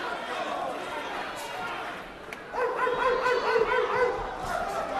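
Boxing fans in an arena imitate dogs with rhythmic barking and yelping chants that swell in the second half, over a constant crowd murmur, with a commentator talking.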